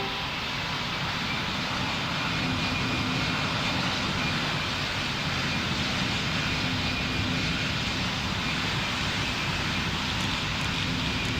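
An airliner in the Roblox game Pilot Training Flight Simulator takes off from runway 13 with a steady, loud, continuous engine roar that holds evenly throughout, alone with no talking.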